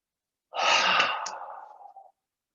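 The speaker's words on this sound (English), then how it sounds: "long breathe in and then out" A single long, slow breath is drawn in and released, soft and close, rising quickly, then tapering off over about a second and a half in an otherwise silent room.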